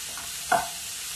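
Capsicum and cabbage are stir-fried in a pan, with a soft background hiss and one brief sharp scrape and sizzle as the vegetables are tossed.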